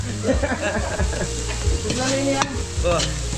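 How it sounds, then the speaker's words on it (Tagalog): String beans and squash sautéing in a pan, a steady sizzle broken by scraping stirs of the spatula, close and fairly loud, with no talking. "So gigisa na natin yung sitaw kalabasa natin."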